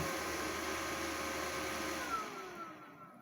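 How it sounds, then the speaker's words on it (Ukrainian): Two cooling fans inside a 3 kW Solinved solar inverter under repair run with a steady broadband whoosh and faint tonal whine, close and even, then begin spinning down and quieting near the end. "Вентилятори відпрацьовують обидва."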